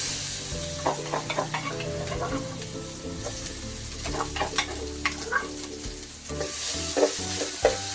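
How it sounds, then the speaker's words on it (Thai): Pounded curry paste being stir-fried for a spicy paddy-frog dish: steady loud sizzling with repeated scraping and clanking of a spatula against the pan, continuous throughout with no talking. "เราไปผัดให้หอมครับ"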